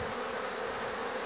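Honeybees crowd the entrance of a beehive, making a dense, continuous close-up buzz with no voices.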